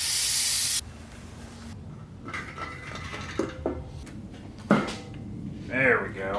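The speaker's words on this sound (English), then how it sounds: "We'll give it a quick brake clean." Brake cleaner is sprayed on engine parts during a head install, a loud hissing burst lasting under a second, followed by quieter clicks and mechanical handling noises with voices talking.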